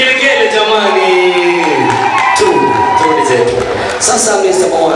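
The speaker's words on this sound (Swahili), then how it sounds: "Makofi na vigelegele jamani" Wedding guests break into loud clapping, cheering and high ululation at a Swahili-speaking celebration, a dense, excited crowd roar close by with whoops and voices layered over music for several seconds.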